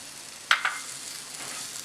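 Chopped tomato drops into a pan of pork curry with a sharp hiss, then a steady sizzle of frying continues close by.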